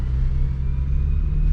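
A garbage truck rolls along a town street nearby, giving off a steady, heavy low rumble of engine and road noise with no pauses and no talking.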